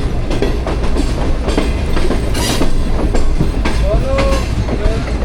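Pak Business Express train rolling into Multan Cantonment station, a loud continuous rumble of wheels with rhythmic clacks and brief metallic squeals near the end.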